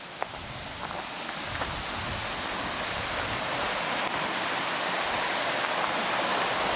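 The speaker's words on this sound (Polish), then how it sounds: "Tak wygląda sobie potoczek, jak szumi głośno." A mountain stream on the cold red trail to Śnieżnik rushes loudly and steadily, a dense, unbroken wash of water noise close by with no talk over it.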